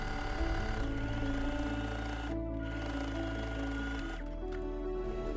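A somewhat older sewing machine stitching the pleats of a dress's back bodice, with a steady, close, continuous mechanical whir and hum that keeps running without a break.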